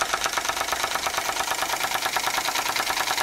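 An old Bing vertical model steam engine runs with the throttle wide open, giving a fast, steady, even chuffing rhythm at close range with no talk over it.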